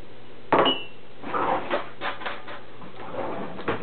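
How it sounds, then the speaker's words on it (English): Microwave brownie batter of oil, vanilla and water is stirred in a dish, giving a quiet series of scraping clinks and knocks from the utensil against the dish, with an irregular rhythm and close-up sound. "And then you want to stir it up."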